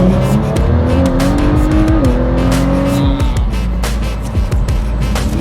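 A hypercar accelerates hard and drives at speed, its engine loud and close throughout with rising and shifting tones and brief tyre squeal, heard from inside alone with no talk.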